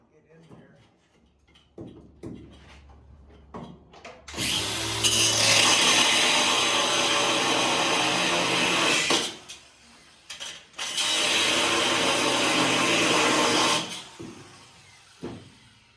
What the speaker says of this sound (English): Let me borrow that grinder for a minute. I think I'm gonna cut this stud here.